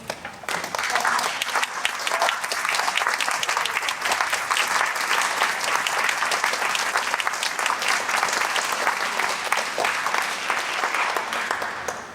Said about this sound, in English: would you please stand so we can applaud and recognize you?